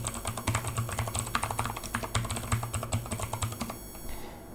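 Typing an email address on a computer keyboard during a WiMON dongle setup: a fast, steady run of close keystroke clicks that stops near the end, with no voices.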